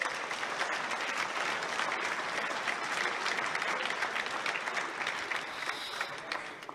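A dinner audience applauds continuously, a dense, even clatter of clapping that holds steady and begins tapering off near the end, with no voices over it.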